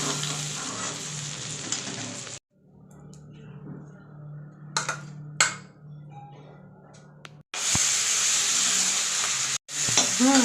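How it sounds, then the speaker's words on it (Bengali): Prawns fry in a pan with little oil, giving a bright hiss that starts loud, drops to quieter crackles with a few clinks and scrapes, then returns to a strong, close sizzle. "চিংড়ি মাছ ভাজা চলছে"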